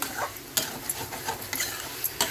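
Capsicum, meal maker and potato being stir-fried for a curry, with a steady close sizzle broken by several sharp scrapes of a spoon against the pan, no talking.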